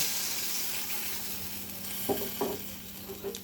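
Water goes into sizzling spices for a fish curry with new potatoes and lentil dumplings. A soft, steady hiss of frying fills the pan, broken by a few brief stirring scrapes, quiet and close, with no talking.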